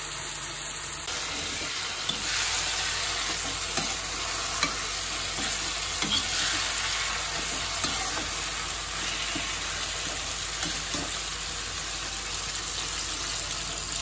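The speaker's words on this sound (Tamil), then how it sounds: "தக்காளி பழமும் வெங்காயமும் கரம் மசாலாவும் இந்த மாதிரி இந்த கலர்ல இப்படி பொரிஞ்சு வரணும்" Tomato, onion and garam masala fry in a pan for a pulao. A dense, continuous sizzle runs for several seconds, broken by occasional soft scrapes of stirring, close and steady with no talking.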